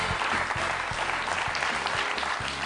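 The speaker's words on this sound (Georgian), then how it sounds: "აპლოდისმენტები ჩვენს გამარჯვებულს." A studio audience on a game show applauds the winner with steady, dense clapping that holds at an even level throughout, with no voices over it.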